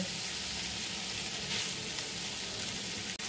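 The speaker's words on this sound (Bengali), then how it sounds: "একটু এরকম নেড়ে চেড়ে ভেজে তুলবো" Boiled young jackfruit sizzles and crackles steadily in hot oil, a dense hiss close up, with a brief stirring scrape near the end.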